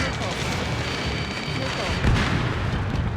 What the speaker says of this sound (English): Return fire! Sierra 2, hold position! We're cut off! Taking fire! We're pinned down! Shoot back!